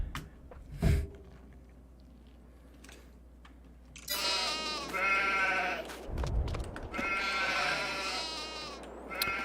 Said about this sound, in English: They're hungry little sheep.